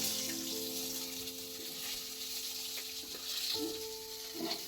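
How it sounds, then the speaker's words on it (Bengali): Hilsa fish frying in a pan gives off a soft, steady hiss and crackle, fairly quiet and close, with faint tonal sounds in the background and a few light scrapes near the end. "ইলিশ মাছ ভাজা হয়ে গেছে এবার নামিয়ে দিচ্ছি"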